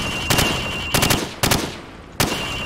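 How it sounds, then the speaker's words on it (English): A rifle fired from the hip in Call of Duty 4, four loud, sharp gunshot bursts, some doubled, spaced unevenly with short ringing decays in between. "Now, shoot at the targets while firing from the hip."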